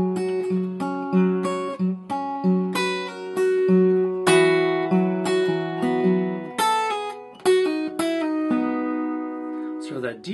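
An acoustic guitar plays the closing two measures of a guitar solo, with clear plucked notes and ringing open strings and hammer-ons in a steady phrase, close and alone, ending on a brief strum.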